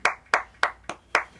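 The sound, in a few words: clapping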